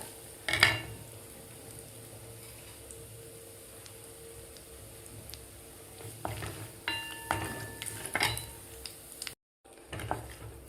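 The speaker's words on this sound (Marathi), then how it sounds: "आता यामध्ये घालायचे आपल्याला थोडेसे बेदाणे. थोडंसं फ्राय करून घ्यायचं आहे" Raisins and dried fruit frying lightly in a pan for sabudana mung dal kheer: a soft, steady sizzle with occasional spoon clinks and stirring scrapes against the pan, close and fairly quiet, with no talking.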